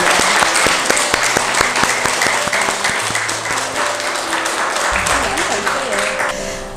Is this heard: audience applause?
yes